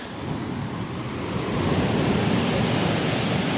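Rough sea surges onto a stony shore, a broad roaring wash that swells louder midway and stays heavy, mixed with wind buffeting the microphone.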